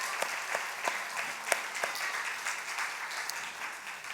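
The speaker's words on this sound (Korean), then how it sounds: "모든 분들께 감사의 박수" A church congregation claps in thanks during a Sunday afternoon service, a brief run of scattered, uneven applause with a few sharper individual claps, moderately close and without talk.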